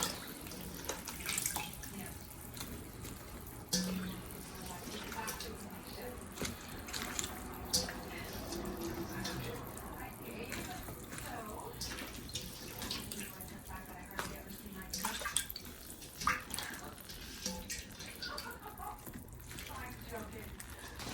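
A pot of Ilocano-style pork chop stew simmers and bubbles, a faint watery burble with occasional clinks, while a person talks over it.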